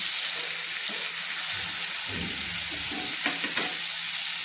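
Pumpkin pieces fry in hot oil with a steady close sizzle, while a metal spatula scrapes and stirs now and then, clinking more clearly near the end.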